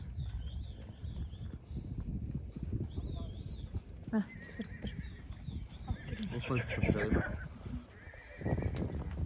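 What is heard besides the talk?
horse neighing and hooves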